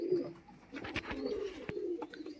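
Pigeons held in the hand give soft, low cooing calls close up, with faint rustling and a few sharp taps between the coos.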